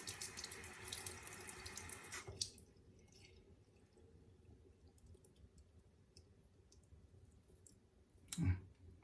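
Hot water runs steadily from a tap over a Rex Ambassador safety razor for about two seconds, then stops, leaving quiet drips and a soft click before a short thud near the end.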